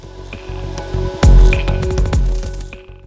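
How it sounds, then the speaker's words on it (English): Sonified pressure waves from a black hole in a galaxy cluster 240 million light-years away, scaled up 57 to 58 octaves into the audible range, form a dense, eerie wash of low rumbling tones and sweeping, ghostly wails that swell and fade. "When bumped up to human frequencies, the sounds of the black hole are almost akin to the wails of a haunting ghost"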